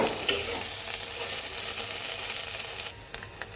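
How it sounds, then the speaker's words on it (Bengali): Onion, ginger and garlic paste frying in a pan for a thin mutton curry gives a steady, close sizzle, with a few short stirring scrapes near the end. "এইবার সব কিছু একসাথে সুন্দর করে আমি ভাজা ভাজা করে নেব"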